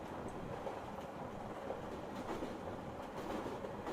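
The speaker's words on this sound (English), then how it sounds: "It's the sound of a moving train." A moving train in a video game gives a steady, continuous rumble with a faint clickety-clack, moderately loud and unbroken throughout, with no voices.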